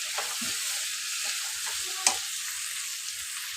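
Potatoes sautéing in a hot pan with a dry-roasted spice blend of nutmeg, mace, radhuni and dried chillies, giving a steady close sizzle with a few scraping stirs and one sharp clink of a utensil.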